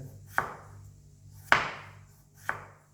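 Three separate knife chops, spaced about a second apart, as potatoes are cut thinly on a board while making a steamed sea bass and vegetable dish. The strokes sound close and crisp, each with a short decaying tail over a low steady hum, and no one speaks.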